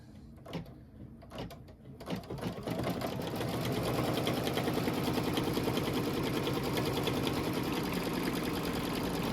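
An embroidery sewing machine in a hoop studio stitches a tack-down on a sweet treat bag, starting with a few sharp clicks and thumps before settling into a steady, fast, continuous run of close, loud stitching.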